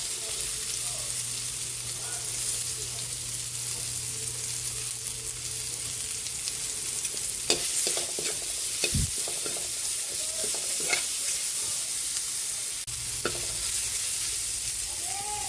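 Garlic and onion sautéing in butter in a pan for pork menudo, a steady loud sizzle with occasional stirring scrapes and clinks throughout.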